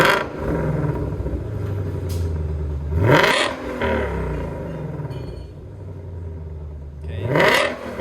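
Shelby GT500 V8 revving hard through catless race-pipe exhaust, a loud close burble between two sharp rising revs that snap back down, the pattern repeating.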